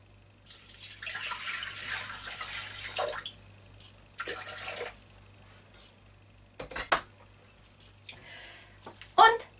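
Water poured into a Thermomix bowl in a kitchen, a couple of hissing pours of a few seconds each, followed by brief clinks of utensils and dishes, with no talk over the pouring.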